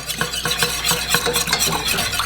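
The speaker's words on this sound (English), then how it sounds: "you want to keep whisking that while I'm putting this in." A whisk beats a flour mixture in a pot, loud close rhythmic sloshing and metallic scraping strokes repeating steadily throughout.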